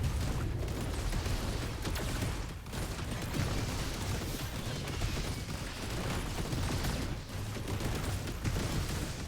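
Rapid gunfire and explosive bursts from a ZeroSpace real-time strategy battle on the Coastal Outpost map, a dense, continuous barrage of shots and pops that barely lets up, loud and close throughout.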